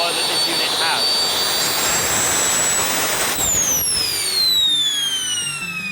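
A compact microturbine jet engine used for flight thrust runs steadily and loudly throughout, a continuous roaring rush with high whining tones that sweep downward in pitch toward the end, with no talk.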